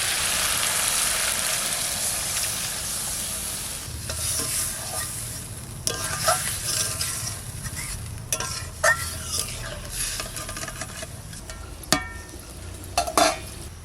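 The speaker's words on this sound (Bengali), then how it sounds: "কষানো হয়ে গেছে এবার জল দেবো" Katla fish masala being cooked in a pan sizzles and fries steadily for the whole stretch, with stirring scrapes and a few sharp utensil clicks near the end; no one speaks.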